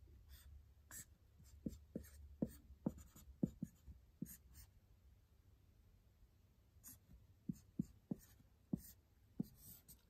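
A pen scratches and taps across paper while drawing part of a polyamide chemical structure, short quiet strokes in irregular bursts with pauses between, close and faint.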